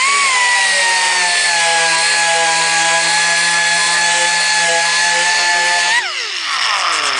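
A power sander with 120 grit works over an aluminum weld on a Jaguar E-Type bonnet, giving a loud, steady high whine that holds for about six seconds, then winds down as the tool spins to a stop.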